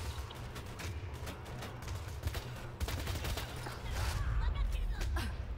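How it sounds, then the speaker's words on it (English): A Tech Railer gun fires in a video game, its bullets ricocheting off surfaces, producing a dense, continuous crackle of rapid shots over a heavy low rumble, with someone talking throughout. "This gun is one of the easiest ones to really see how it's working in action, especially because the bullets also reflect off surfaces."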